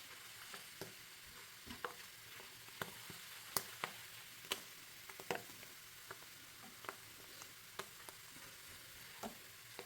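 Milk cream simmering down into ghee in a pan, with a soft steady bubbling hiss broken by frequent sharp crackles and pops at irregular intervals, close up and with no talking.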